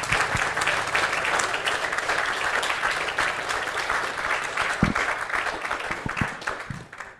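An audience welcomes the speaker David Friedman at a PorcFest event with steady, dense applause that continues across the whole span, loud and full, with a few sharper individual claps standing out.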